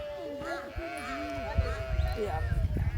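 A flock of sheep bleats on a hillside in a hilly area, several wavering cries overlapping at close range while someone talks over them.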